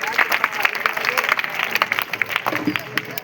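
A crowd claps for a comic politician character in a comedy sketch. The applause is moderately loud and scattered, with voices talking over it.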